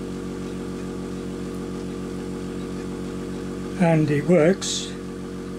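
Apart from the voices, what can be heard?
UGears pneumatic engine model running on air from small compressor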